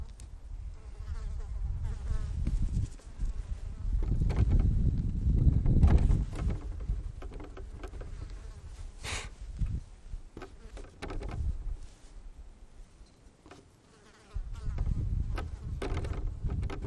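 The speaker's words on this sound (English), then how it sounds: "Bugs. Bugging me." Bugs buzz around outdoors during plein air painting near fir trees, a droning hum that swells close and fades in waves, with lighter rustling between the passes.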